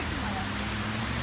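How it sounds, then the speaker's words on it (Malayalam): Heavy rain falls in a steady, hissing wash of drops that lasts the short moment without a break. "പിന്നെ മഴ അങ്ങോട്ട് കൂടി നല്ല മഴയായി"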